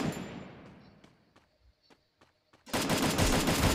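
Gunfire in a Free Fire match scoring a headshot: a string of short, sharp shots spaced through a quieter stretch, followed by a sudden loud, dense burst of noise.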